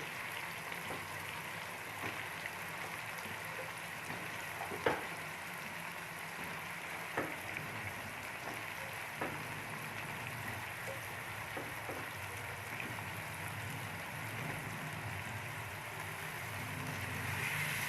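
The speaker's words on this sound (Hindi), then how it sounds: "थोड़ा सा इसको भूनते हैं।" Eggplant frying in a chili and turmeric spice masala makes a faint, steady sizzle with scattered soft crackles and pops throughout, heard alone without talk.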